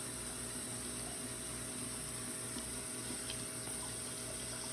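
Warm tap water runs steadily as hands are washed at a sink, a constant even rush that fills the whole stretch with no talk over it.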